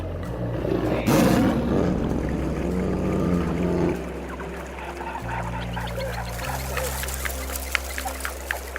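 Bengal tiger roaring, a deep rumbling roar early on over ambient forest or water sounds, followed by a steady low musical drone; moderately loud, no talk.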